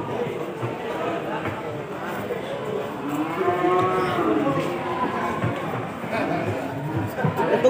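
Cattle moo at a busy livestock market in Kudus where water buffalo are kept, a drawn-out low call rising over crowd murmur and people talking nearby.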